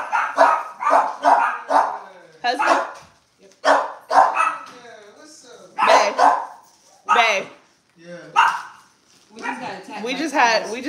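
Dogs bark loudly and close by in repeated bursts, with short pauses between them, across several seconds; the barking sounds excited and insistent.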